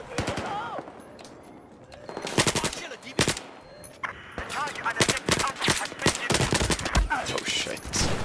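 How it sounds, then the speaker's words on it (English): Rapid bursts of automatic gunfire and sharp rifle shots, including a sniper shot, crackle through a Battlefield 4 match in uneven clusters, loud and close, while someone talks over the action. "Oh wait, that was a sniper."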